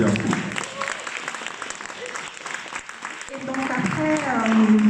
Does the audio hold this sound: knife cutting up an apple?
no